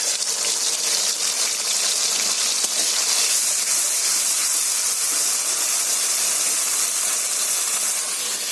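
Ground mustard and peanut paste with green chilies hits hot oil in a pan and sizzles as a steady, loud, bright hiss that continues unbroken throughout.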